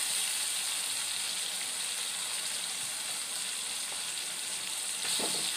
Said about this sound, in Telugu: ఇలాగ టమాటా మెత్తబడ్డదాకా కలుపుకోవాలి